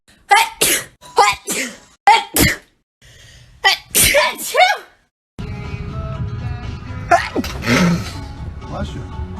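Several sharp sneezes from different people burst out in quick succession, loud and close. A noisier stretch with background hum and voices follows, and one more sneeze comes near the end.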